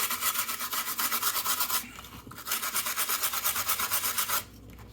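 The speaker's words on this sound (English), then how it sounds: "back to our trusty wire brush" Stiff wire brush scrubbed hard back and forth over soldered nickel silver rail on a 90-degree model railway crossing, a steady rapid rasping rhythm with a short pause midway and a quieter tail.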